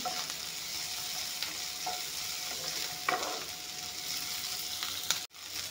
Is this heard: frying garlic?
yes